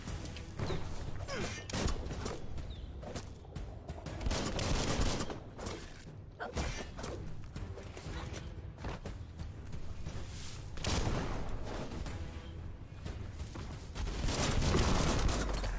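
Shooting in the video game Biomutant, with dense bursts of gunfire and heavy thumps and crashes layered over a busy game mix, continuing loudly across the whole stretch.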